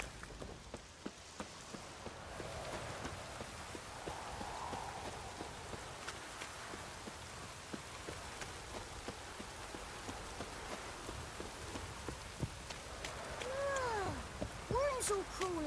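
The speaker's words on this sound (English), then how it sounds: "Rain don't rust your blades." Steady rain patters across a surface in Witcher 3, a broad hiss with scattered drop clicks and faint hoofbeat-like taps, running unbroken near and moderately loud, with a few chirpy whistles toward the end.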